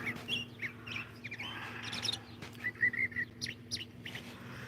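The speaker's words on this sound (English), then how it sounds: "Listening to the birds chirping." Birds chirp and tweet outdoors in a front yard, several short bright calls scattered over a few seconds against a quiet background hum.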